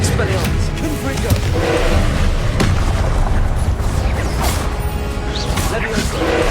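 Confringo fire-spell blasts in the Hogwarts Legacy video game: repeated loud booming explosions and crashes amid battle noise, with voices shouting throughout.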